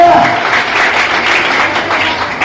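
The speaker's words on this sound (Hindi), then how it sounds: "जोरदार ताली" A business-meeting audience claps loudly, a dense burst of applause that holds steady for a couple of seconds with faint voices mixed in.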